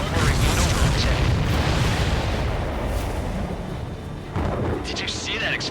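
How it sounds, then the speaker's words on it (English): A deep, rumbling explosion boom in the aerial combat game Ace Combat 7, loud and sustained, with a second burst near the end and radio chatter running beneath. "Did you see that explosion?"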